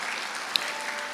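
A church congregation applauding during a sermon, a soft, diffuse wash of clapping with one brief sharper clap, heard at a distance and fairly faint.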